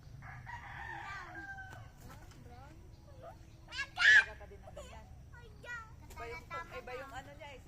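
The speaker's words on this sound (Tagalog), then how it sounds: "Bakit kakaiba yung tilaok niya?" A rooster in a backyard lets out a loud, close crow with an unusual, clipped call, while people talk nearby and other quieter bird sounds are scattered around it.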